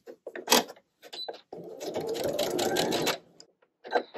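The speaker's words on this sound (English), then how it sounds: "I'm going to sew diagonally to the corner here" A sewing machine stitches quilt binding diagonally into a corner, with short whirring bursts and a longer steady run of needle strokes in between, heard close up.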